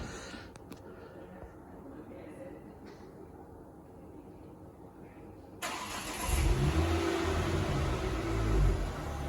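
A heavily modified orange Ford Focus ST runs on a rolling road on a cold morning, its engine a steady, close drone that swells into a louder, deeper roar in the final seconds as the revs climb.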